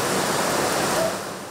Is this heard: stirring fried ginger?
no